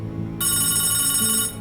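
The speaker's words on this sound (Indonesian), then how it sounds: "jam 11 telepon rumahnya berdering" A house telephone rings at night, one long continuous electronic ring lasting over a second, loud and close, with a steady low hum beneath and no talking.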